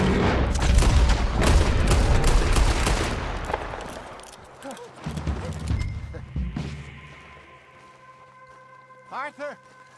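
Gunfire from Red Dead Redemption 2 crackles in a dense, rapid burst that fades out while characters shout and talk over it, with horse hooves and music following.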